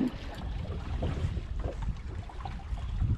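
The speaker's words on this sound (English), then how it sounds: "So there's a bit of wind out here" Wind gusting over a small fishing boat at sea, a constant rushing roar with buffeting on the microphone and faint water movement beneath, loud and close with no talking.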